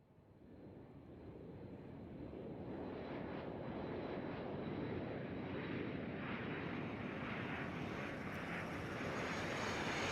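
Airliner engines at Atlanta's airport spool up into a loud, steady broadband roar that builds over the first seconds and then holds, with no voices.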